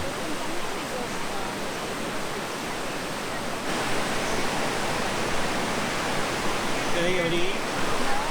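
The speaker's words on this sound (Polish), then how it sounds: "Mleczno-biała, spieniona woda spada z wielkim hukiem przez obrośnięte trawami i wapiennym nalotem wodne kaskady" Steady, dense rush of milky, foaming water cascading down grassy travertine limestone terraces at hot springs in Italy roars continuously, close and loud, with a brief voice near the end.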